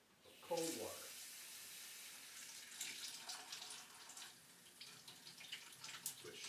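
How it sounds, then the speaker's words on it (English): A gentle stream of cold tap water runs over a clear ice sphere from a Wintersmiths Phantom ice maker, a soft, quiet hiss and trickle with a brief splash near the start. "run it under just a little bit of cold water"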